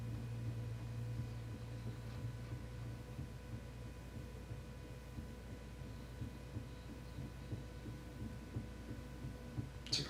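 A heartbeat-like low throb in a song, with soft repeated pulses over a quiet hum and distant sustained tones.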